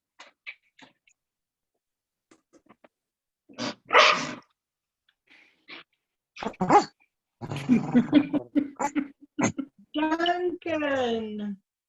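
A small dog named Duncan or Chili barks in a few sharp, separate bursts, nearby but fairly faint, between quiet gaps. Brief human voices and throat noises are heard among the barks.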